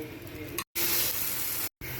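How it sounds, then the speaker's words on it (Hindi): Chopped onions are dropped into hot oil in a frying pan and sizzle loudly with a bright, steady hiss close by, broken by two brief silent cuts. "फ्राई पैन रख लिए, ऑयल डाल दिए, अब प्याज डालेंगे इसमें"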